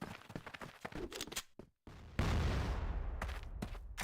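Grenade blast in the CrossFire shooter game during a competitive league match, a loud sudden burst after a short gap, preceded by scattered gunshots and followed by sustained rumbling noise.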